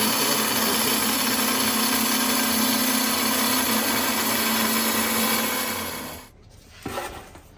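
A die grinder cleans carbon out of the inside of a motorcycle downpipe, producing a loud, steady high-pitched whine that runs for several seconds, then cuts off and winds down, followed by a brief clatter.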